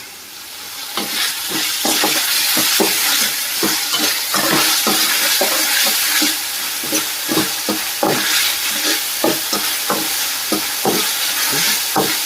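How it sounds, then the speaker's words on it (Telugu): Chicken sizzles loudly in a pan with ginger paste over high flame, with a steady hiss and a regular rhythm of spoon-stirring scrapes and no voices. "అల్లం పేస్ట్ మగ్గిన తర్వాత చికెన్ వేసుకున్నాం. కొద్దిగా హై ఫ్లేమ్ పెంచుకున్నామండి."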